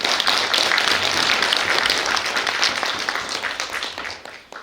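Residents at a redevelopment project briefing applaud, a full, close burst of clapping that stays strong for a few seconds, then thins and fades away.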